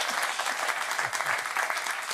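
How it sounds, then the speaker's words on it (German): Studio audience applause at a German talk-show taping fills the whole short stretch: a dense, steady patter of many hands clapping at even loudness, with no voices over it. "Jetzt klatschen wir, dass du hier bist."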